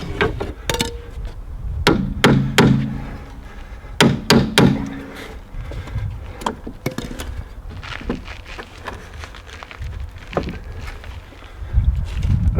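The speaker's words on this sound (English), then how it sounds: "Just a little tap with the hammer." A hammer strikes an Audi's upper front control arm in a series of sharp, irregular taps, some in quick pairs, close by amid faint clinks and handling noise.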